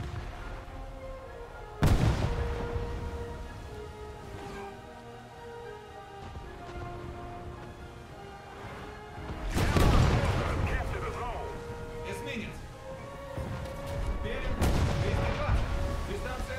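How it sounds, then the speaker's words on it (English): A warship in a naval combat game fires salvos of missiles: three sharp, booming launch blasts spaced several seconds apart, each trailing a rushing roar, over a steady low ambient rumble with a voice talking in places. "Look at these missiles just go."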